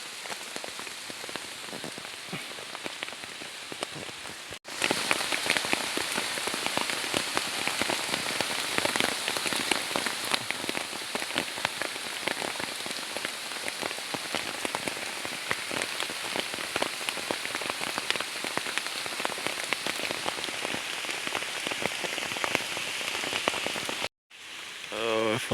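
Heavy rain falls steadily on nearby surfaces, a loud continuous hiss with dense pattering, broken by two brief cuts near the start and the end.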